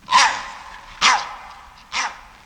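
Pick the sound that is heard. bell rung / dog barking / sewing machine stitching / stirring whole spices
dog barking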